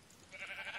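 Short, close bleat from a sheep in the Minecraft mod Better Than Wolves, rising out of quiet game ambience in the second half of the moment.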